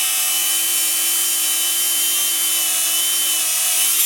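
Grinding away part of the mounting plate on a first-generation Ram truck to gain more thread engagement, a steady, loud high-pitched power-tool whine running continuously without any talk.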